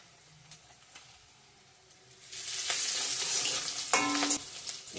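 Panch phoron, the Bengali five-spice mix, is dropped into hot oil with fried bay leaf and onion, bursting into a loud, steady sizzle after a quiet start, with a brief louder crackle partway through.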